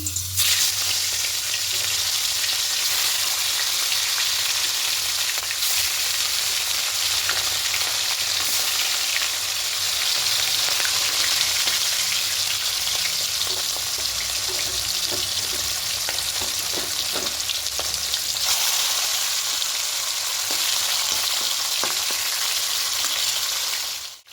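Pieces of katla fish frying in mustard oil in a kadai, a loud, steady bright sizzle and crackle that runs unbroken for over twenty seconds, close by and with no talking.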